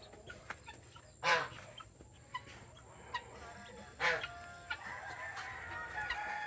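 Heritage-breed chickens, including a black hen, cluck and call nearby, with a couple of louder squawks standing out among scattered soft clucks and faint background farmyard noise.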